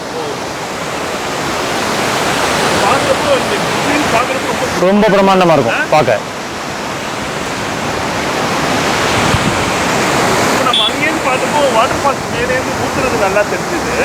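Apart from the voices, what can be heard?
water flowing at a waterfall in Munnar, Kerala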